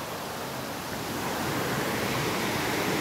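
Steady rushing water from a waterfall near the living root bridge in Meghalaya, a broad even roar that holds constant throughout with no voices over it.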